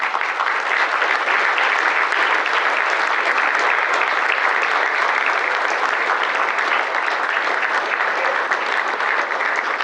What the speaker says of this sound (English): let's have all the board members stand up and give them a round of applause as well